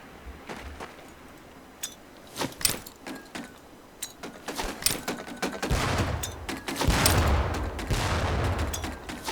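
Training grenades going off in the Medal of Honor Pacific Assault video game, a string of sharp booming bursts with metallic clatter and debris. The blasts build into a dense, sustained roar in the second half.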